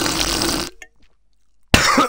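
A loud, close cough bursts out harshly, then stops abruptly into near silence before another loud, rough burst follows.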